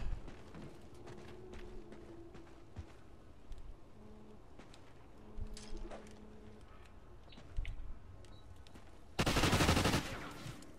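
Gunfire in Call of Duty Ghosts multiplayer, scattered distant shots with a louder close burst near the end, amid game ambience and faint tonal effects.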